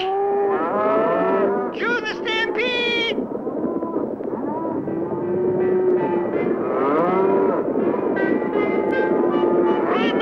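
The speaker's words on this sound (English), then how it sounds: "cue the mooing. Cue the stampede." Loud, continuous lowing and mooing from several cattle over a rumbling, busy background, with calls overlapping throughout.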